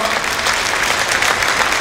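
Audience applause at a mayor's New Year wishes ceremony, steady dense clapping from a crowd filling the whole stretch, loud and even without pause.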